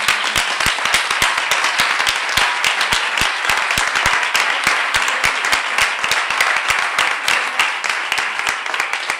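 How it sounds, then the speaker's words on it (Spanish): Dense, sustained applause from a large congress audience at a closing plenary session, many hands clapping loudly and continuously with sharp individual claps standing out throughout. "Y un aplauso para ellos, efectivamente."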